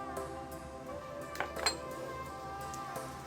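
Glycerin and water being stirred together for a homemade skin-brightening cream, heard as a few soft clinks of a spoon against a small container over a steady low hum, with two brighter taps near the middle.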